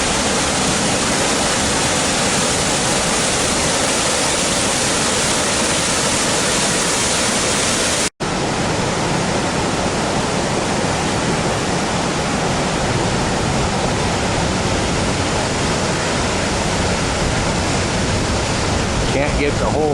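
Horsetail Falls, a waterfall beside the old scenic Highway 30 in the Columbia River Gorge, pours in a loud, steady broadband roar that never lets up, heard close and continuous with a single brief dropout midway.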